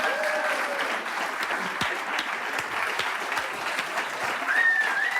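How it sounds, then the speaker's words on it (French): Large studio audience giving a thunderous round of applause for a guest, a dense, sustained roar of clapping at even strength throughout, with a few whistles and shouts rising above it. "je vous demande un tonnerre d'applaudissements pour Kader Nemer"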